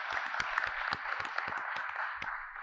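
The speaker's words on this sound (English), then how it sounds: "So please, a round of applause for both those teams." A round of applause from the audience for both teams at an Ontario election candidates debate on disability issues, with sharp, distinct claps over a steady patter, heard at moderate level.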